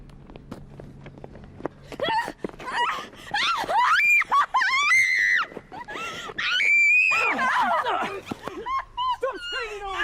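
A woman screams in repeated shrill, wavering bursts during a violent attack on a street on Boxing Day, loud and close, with short gaps and scuffling movement between the cries.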